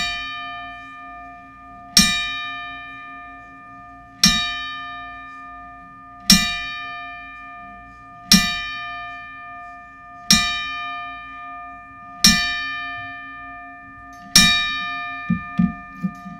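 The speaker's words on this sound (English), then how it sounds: "So Roger Buck, there at ringside, if we could have the 10-bell salute and just a moment of silence for the great Bobby the Brain Heenan." A ringside bell tolls a ten-bell salute at a professional wrestling memorial, with loud, evenly spaced metallic strikes about two seconds apart. Each strike rings out and decays in otherwise silent surroundings.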